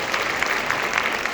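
Audience applause at a school concert band's spring concert, a steady wash of clapping throughout the short burst with no voices standing out.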